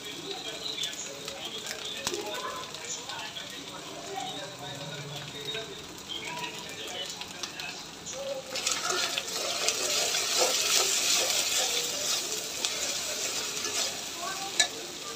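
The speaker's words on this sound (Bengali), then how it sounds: "আদা রসুনটা একটু ভেজে নিলে ভালো সুন্দর স্মেল আসে" Ginger and garlic frying and being stirred in a pan, a soft continuous sizzle with scraping stirring strokes that grows louder and brighter midway, heard close up with a voice talking over it.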